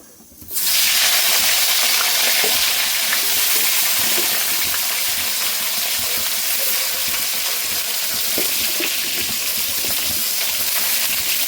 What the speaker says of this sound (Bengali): তেলে বেগুনগুলো আমি ভেজে নেব।